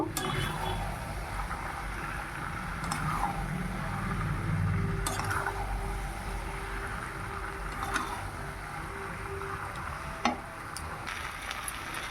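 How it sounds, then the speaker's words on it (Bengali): Jackfruit and prawns being sautéed in a pan, a faint, steady sizzle with occasional sharp clicks and scrapes of stirring, a soft hum running through part of it. "এবার এচোড়ার চিংড়ি দিয়ে দিলাম এবার ভালো করে কষে নেব"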